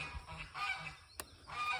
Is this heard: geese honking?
yes